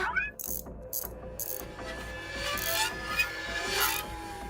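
A mechanic tinkers with a hair dryer indoors, giving ratcheting, clicking and rasping mechanical sounds, scrapes and small knocks at moderate level, with brief faint high hissing bursts.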